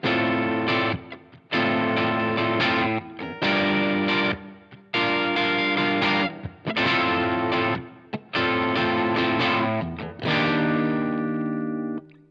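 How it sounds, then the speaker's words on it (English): An electric guitar played through a fuzz pedal set with the fuzz all the way down, giving a mildly distorted tone. Loud strummed chords ring in rhythmic bursts separated by short gaps, with no voices. "So that's the fuzz all the way down."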